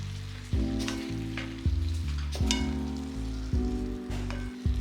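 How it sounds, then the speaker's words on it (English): Pumpkin flowers sautéing in a pan, giving a soft steady sizzle. Intermittent stirring knocks and scrapes recur every second or so, close by and without speech. "Then add your flowers to the mix and saute for a couple of minutes."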